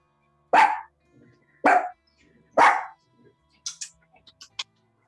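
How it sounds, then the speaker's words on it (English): A dog barks three loud times at an even pace, followed by a run of quieter, higher yips. "please stop barking."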